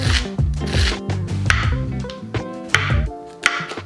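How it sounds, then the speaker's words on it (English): A knife chopping a mix of chestnut and shiitake mushrooms on a board in a home kitchen, rapid close irregular cuts with scraping and a few sharper knocks, loud and continuous. "I'm chopping up a mixture of mushrooms, so chestnut and shiitake"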